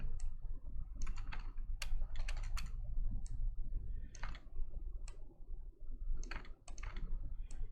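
Computer keyboard typing in steady bursts of sharp clicks while XML text is deleted, close and fairly quiet over a low background hum, with no talking.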